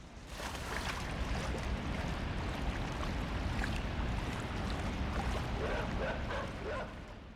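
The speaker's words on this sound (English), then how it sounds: "I slide down the hill and into the water." In the video game Inside, a character slides down a hill into water, giving a continuous watery rush and splashing under ambient noise, with a faint dog bark in the background.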